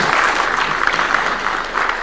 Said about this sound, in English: Round of applause for His Excellency one more time.